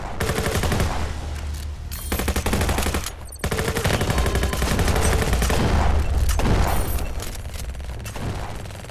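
Rapid automatic gunfire rattles from the video game Venge in loud, dense bursts, with a short pause before the shooting resumes and continues steadily.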